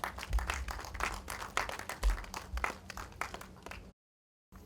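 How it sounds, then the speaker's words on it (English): A crowd applauds steadily, a dense wash of clapping that stops abruptly near the end. "A round of applause for her, please."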